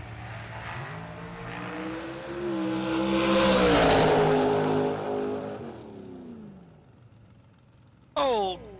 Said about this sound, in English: shakedown run from one of those loud cars